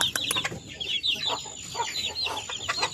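Chicks and chickens at a small poultry farm cluck and peep, with repeated close, high chirps and scattered clucks coming in quick overlapping bursts throughout.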